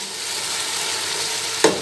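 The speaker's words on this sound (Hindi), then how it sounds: "और टमाटर भी इसमें ऐड कर देंगे और इनको अच्छी तरह भूनते हैं" Mutton pulao base with tomatoes frying in a pot gives a steady close sizzle, with a short sharp scrape of stirring near the end and no talk.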